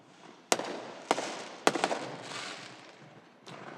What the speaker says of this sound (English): Fireworks. Sweet.